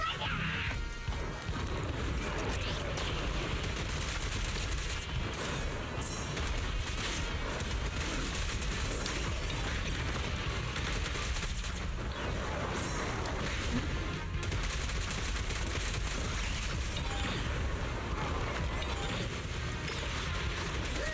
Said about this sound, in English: those missiles will just launch out of their own accord every so often